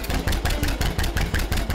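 A vintage collector tractor engine runs steadily nearby, its loud, regular firing pulses thumping in an even rhythm with no talk over it.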